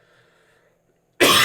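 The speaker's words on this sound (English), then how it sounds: "Sorry about the cough again" A single sharp, loud cough bursts out after near silence, close to the microphone.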